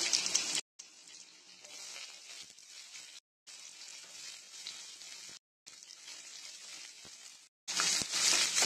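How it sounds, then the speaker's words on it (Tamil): Finely chopped onions sizzle and fry in hot oil with curry leaves in a pan while a lentil-ball kuzhambu is being cooked, a steady close hiss broken by a few short pauses. "வெங்காயம் நல்லா வதக்கிக்கலாம்."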